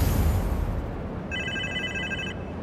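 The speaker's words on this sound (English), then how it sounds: "Can't you even hear his phone ringing?" A phone rings in the video game Marvel's Spider-Man 2, a bright electronic trill lasting about a second that sits over a dense, noisy game soundscape.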